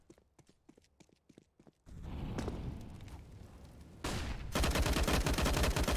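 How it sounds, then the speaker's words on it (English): Grenades burst and gunfire rattles in a Counter-Strike match on the Train map. Sharp ticking footsteps give way to loud, dense, continuous blasts and shots that grow heavier toward the end. "Oh, catching a ton of nades."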